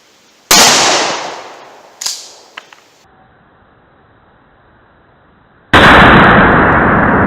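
A shotgun firing birdshot at a target 25 yards away, with one sharp blast followed by a second shot and small clicks of handling, then a loud burst of steady broadband noise near the end.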